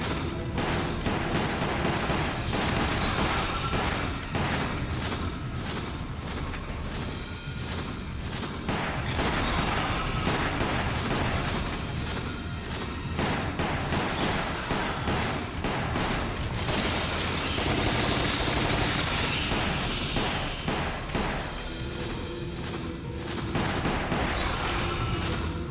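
Repeated shotgun blasts and heavy gunfire from Resident Evil: The Umbrella Chronicles, aboard a train, loud and dense throughout with booming bursts over a constant layer of game action.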